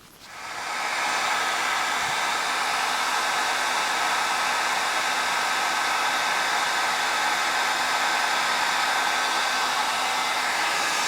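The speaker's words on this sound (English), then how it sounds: "And I slide the hairdryer beside the alcohol and color." A hair dryer blows steadily on alcohol ink artwork, a continuous loud broadband whoosh that starts up and holds level with no talking.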